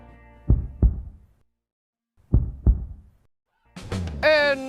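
Two pairs of low, thumping heartbeats, each lub-dub double beat separated by silence, loud and close, followed by a short burst of speech.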